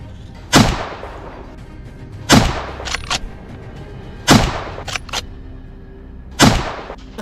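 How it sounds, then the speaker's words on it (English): Four loud, sharp rifle shots from a wild boar hunt at a forest's edge, spaced about two seconds apart, each followed by a rolling echo and a couple of faint softer cracks. "My first shot struck its shoulder."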